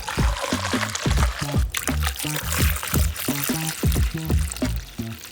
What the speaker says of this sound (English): Filling her back up. Distilled water.